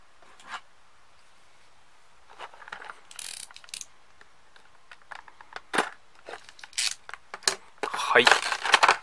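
Packaging for an S.H.Figuarts Juggler action figure being opened, heard up close as scattered plastic rattles, clicks and crinkles. The sounds are sparse at first, then get busier, and the loud crackle of handled plastic builds at the end.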